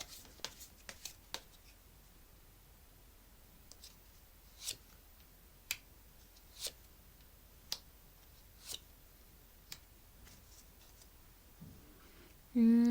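Tarot cards being drawn and laid down in a quiet room, a series of short, crisp card snaps and flicks spaced a second or so apart, ending in a louder burst of handling.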